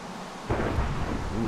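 Thunderstorm in the video game Minecraft, a sudden loud rumble of thunder breaking in after a quieter moment and rolling on with broad noise, heard without talk.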